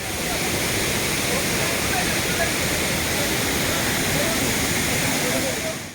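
Jayapuram waterfall pours over rocky forest terrain in a loud, unbroken rushing roar, steady throughout and close by.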